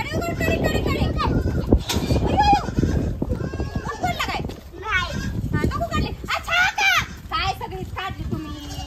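Goats bleating on a farm in several wavering calls, mixed in with lively talk from people nearby and children's voices throughout.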